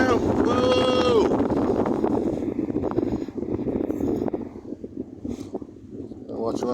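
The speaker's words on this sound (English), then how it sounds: "there's a bit of wind right now" Wind gusts across a beach at Tinderbox, Tasmania, producing a steady, roaring rush of broadband noise against the microphone that swells and eases, with a brief whistling tone early on.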